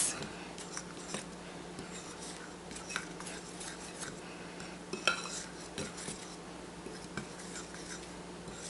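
A utensil stirs salt and sugar into a homemade pie crust mixture in a bowl, producing soft scraping and light clinking strokes, close and fairly quiet, repeated irregularly.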